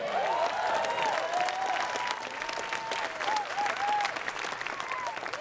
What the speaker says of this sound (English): And can we have one more round of applause for the Garcias?